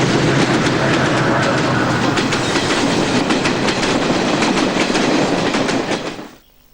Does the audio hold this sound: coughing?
no